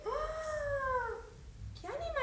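A single drawn-out cat meow with a falling pitch, then a second shorter meow starting near the end, over a low background rumble.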